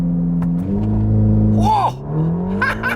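A 2024 Ferrari Roma Spider launches hard on launch control: a deep engine rumble swells into loud revving acceleration, climbing through rising gear pulls with a sharp shift midway.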